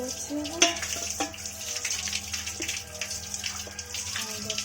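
Oil poured into a hot pan while making uggani, a continuous bright frying hiss with faint clinks and stirring noises, steady throughout with no speech.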